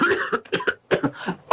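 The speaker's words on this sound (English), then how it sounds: "When I drink water, it makes me cough." A man with an old bullet wound in his lungs coughs after drinking water, giving a rapid series of harsh, close coughing bursts in uneven rhythm, loud and without other sounds.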